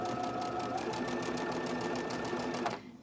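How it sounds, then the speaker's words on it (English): A domestic sewing machine stitching cotton quilt pieces, its needle hammering in a fast steady rhythm close by for nearly three seconds before stopping abruptly. "I'm going to finish sewing these"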